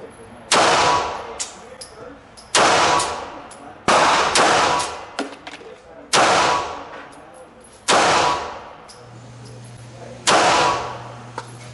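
Walther P1 pistol shots at an indoor shooting range: six loud, sharp reports spaced about two seconds apart, each with a long echoing tail.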